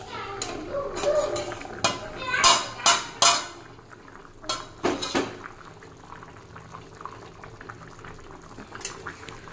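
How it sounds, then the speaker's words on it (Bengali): Fish curry with fish heads bubbles in a pot, with irregular close bursts of boiling and some clinks over a steady low simmer. "তরকারি ফুটছে, মাছগুলো দিয়ে দিয়েছি।"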